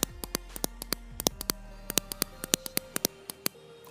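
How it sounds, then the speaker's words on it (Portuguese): Crisp main button clicks of a Logitech MX Master 2S mouse, about two dozen, come in a steady quick rhythm, close and clear with nothing else around. "Então aqui a gente tem os cliques normais."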